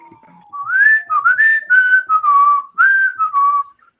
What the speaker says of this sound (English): I wasn't sure if my whistler would whistle right